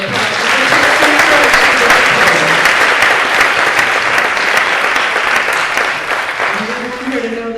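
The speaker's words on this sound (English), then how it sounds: "let's give her another round of applause" Loud, sustained applause from an audience at a public speaking contest, dense clapping that fills the room and tapers slightly near the end, with a faint voice or two underneath.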